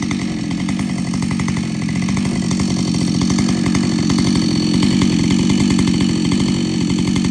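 Husqvarna 572XPG chainsaw cutting wood at full throttle, a loud, steady, close-up engine buzz that holds unbroken throughout.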